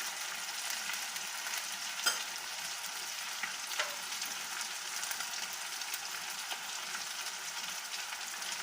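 Chicken pieces frying in oil in a karahi for a restaurant-style chicken karahi, a steady close hiss and sizzle with a few faint pops and no talking.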